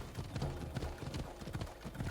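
Horse hooves galloping in Assassin's Creed Odyssey, a steady rapid clip-clop rhythm of a fiery horse close by, with a faint whinny-like tone underneath and no talking.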